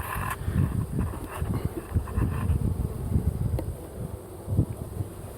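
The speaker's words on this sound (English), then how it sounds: "we've got a decent amount of bees still up in this box" Honey bees drone and buzz steadily inside a hive box, a dense low hum with scattered nearer passes and faint wind, no talk.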